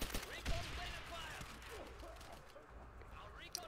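Thompson submachine gun fire in World at War plays in faint, rapid bursts with scattered other shots mixed in, under ongoing talk from a player.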